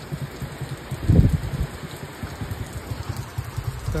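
Rain falls outdoors in bad weather as a steady hiss with soft patters and gusty rumbles, swelling louder briefly near the start, with no talking.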